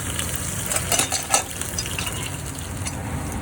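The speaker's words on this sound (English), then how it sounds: "So here it's sizzling." Hing, mustard seeds, cumin and green chilies crackle and sizzle in hot oil close up, with a steady hiss and small pops throughout.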